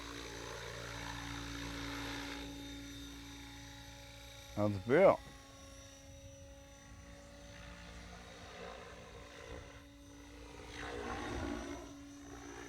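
A radio-controlled helicopter's rotor and motor whine steadily throughout as it flies outdoors, with a brief close voice in the middle and faint talk underneath.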